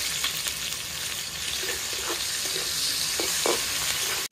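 Chopped onion fries in hot oil with garlic, panch phoron and dried chilli, a constant close sizzle punctuated by several spatula stirs and scrapes against the pan.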